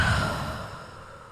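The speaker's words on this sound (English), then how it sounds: "Take a deep breath." One deep exhaled breath, a soft airy sigh that fades over about a second, close and fairly quiet with no talking.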